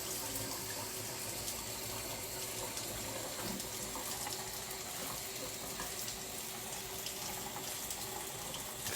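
Cold water runs steadily from a kitchen tap in a home kitchen during holiday cooking, a constant even rush of spray without break for the whole stretch, fairly close and moderately loud.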